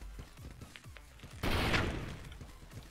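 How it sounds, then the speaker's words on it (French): A spider robot in the Clone Drone video game fires a grenade, which lands as a single sudden blast that rolls off slowly over a quiet background of faint mechanical clicks. "Elle tire des grenades."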